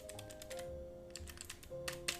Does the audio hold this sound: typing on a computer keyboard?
yes